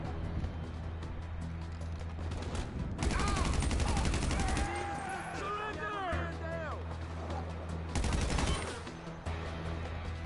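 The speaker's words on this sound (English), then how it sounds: "This is my favorite gun, the special carbine." Rapid bursts of special carbine automatic fire in GTA crackle loudly in two long volleys, between stretches of quieter game background and a person talking over the action.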